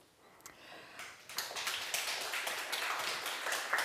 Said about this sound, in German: meine Damen und Herren, dafür diesen Applaus gespendet zu haben